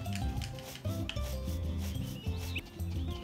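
A horse is brushed in the farming video game Story of Seasons, producing repeated rhythmic rubbing and rasping strokes over soft background music, with no talking.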